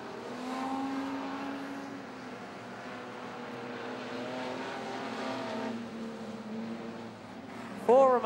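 Holden and Ford street stock race cars roar around a Sydney speedway during an A-Main, engines revving and rising and falling in pitch as they pass, with brief sharper whines near the end.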